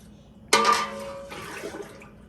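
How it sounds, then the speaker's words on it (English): Glass canning jars go into a water-bath canner at the stove, with one sharp clink and splash followed by a softer second clatter and trailing water noise, close up and unaccompanied by talk. "So I am putting these jars into the canner"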